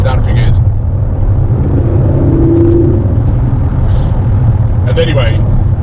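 An Aston Martin DB11 with a turbocharged engine drives on a motorway, giving a loud, steady low rumble and whir of the engine from inside the car, with brief voice sounds over it.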